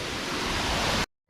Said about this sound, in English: I'm at the waterfall